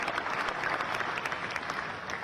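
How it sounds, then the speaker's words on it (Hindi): Steady applause from a rally audience in Indore, a dense, continuous clatter of many hands clapping at close range throughout, with no voices rising above it. "इस पर तो जोर से ताली बजाओ आप"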